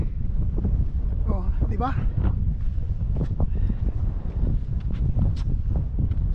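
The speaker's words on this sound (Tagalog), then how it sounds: "grabe ang hangin, windy, tapos ang lamig" Strong, cold wind blows across a mountain peak during a trek up the country's second highest summit, a constant low rumbling buffet against the microphone, with people talking briefly over it.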